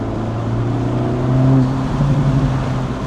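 An Acura Integra Type S (DE5) engine with a stock factory intake hums steadily and rises into a moderate rev, with a faint whooshing hiss from the intake, no voices present.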